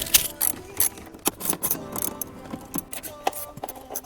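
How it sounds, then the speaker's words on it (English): A ratchet loosens 10 mm blower bolts on a 2007 Acura TSX, making close, irregular bursts of metallic clicking and clanking with brief pauses between turns. "So next, we want to take off the bolts to the blower."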